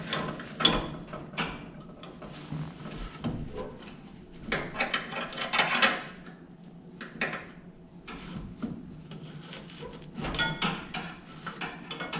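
A wrench works a brake line fitting on a Coyote-swapped Dodge Challenger, making close metallic clinks, ratchet clicks and scraping taps in irregular bursts, with no talking.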